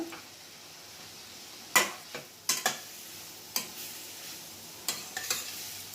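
Vegetable fried rice sizzles faintly in a pan while a spatula strikes and scrapes the metal in several sharp, close clacks spaced unevenly over a quiet background.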